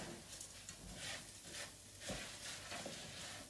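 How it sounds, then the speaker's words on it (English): Rice stirred and browned in hot olive oil for risotto Milanese, a steady close sizzle with scraping spoon strokes throughout, no talking. "you need to stir it around inside the hot olive oil"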